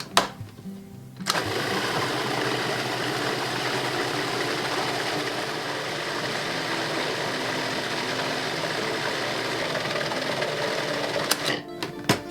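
A food processor blends a cilantro and olive oil dip seasoned with salt and pepper, switching on with a thump into a continuous loud motor whir that runs steadily for about ten seconds before cutting off.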